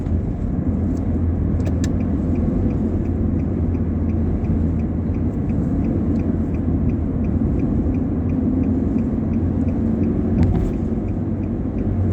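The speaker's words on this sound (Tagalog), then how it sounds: "Overtake yung Mercedes-Benz 4MATIC GLC 200" A Mercedes-Benz GLC 200 4MATIC drives past on a road in Doha, Qatar, heard as a steady, close, continuous engine and tyre rumble with no talk, holding an even level throughout.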